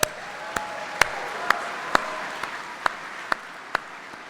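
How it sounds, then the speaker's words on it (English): Slow, evenly spaced claps sound about twice a second, a thin ovation for a state championship high school soccer team at a graduation ceremony. They carry over a soft room hum with no talking. "let's give them a round of applause"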